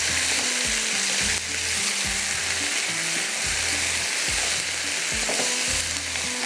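Onions with ginger garlic paste fry in an open kadai, a loud, dense sizzle with rhythmic scraping and stirring thumps throughout, no talk.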